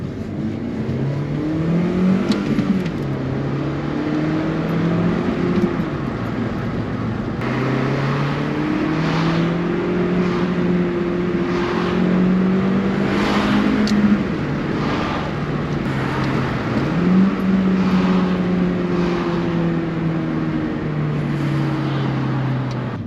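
Car engine heard from inside during a daily commute, revving repeatedly toward redline with rising and falling pitch sweeps as gears change, loud and continuous with steady road noise underneath and no talking.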